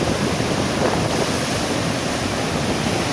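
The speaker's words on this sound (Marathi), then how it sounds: "ज्यावेळी पावसाचा जोर असतो आणि वाऱ्याचा जोर असतो त्यावेळेला मोठ्या प्रमाणात लाटा अशा समुद्रामधून येत असतात." Rough sea waves crash at high tide in Mumbai during heavy rain and strong wind, a loud, continuous roar of surf mixed with wind buffeting the microphone.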